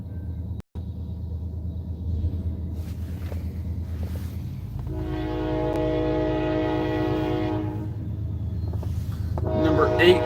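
CSX freight train Q360-7 rumbles past nearby in Oxford, Ohio, its low steady roar building as a long horn blast sounds over it.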